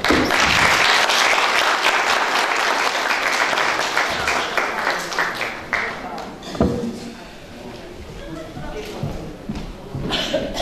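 An audience at the 80th anniversary jubilee of Qobu School No. 2 breaks into sustained applause that gradually thins and fades while a voice speaks over the room.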